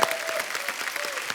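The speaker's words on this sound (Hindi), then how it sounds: "इनके लिए जोरदार तालियां." A studio audience at a comedy talk show claps in a short, dense burst of applause, close and lively, greeting a guest.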